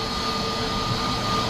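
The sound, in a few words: large airplane flying near Mumbai international airport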